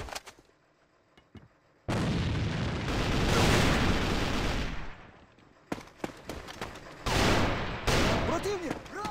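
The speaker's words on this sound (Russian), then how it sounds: "Противник! Граната! Бросаю гранату противника!" Grenade explosions in the online shooter AVA during a competitive esports match: sudden loud blasts with heavy rumbling decay, a first long booming burst followed by a second cluster of sharp detonations and a trailing boom, with gunfire crackling faintly between.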